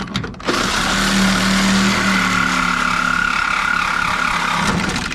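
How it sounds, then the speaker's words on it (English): Sawzall reciprocating saw cutting through the flatbed of a 1990 Ford F-250 truck, a loud continuous buzzing whine that starts abruptly and holds steady without pause, close up. "Now I'm just gonna try to get the rest of this with this Sawzall."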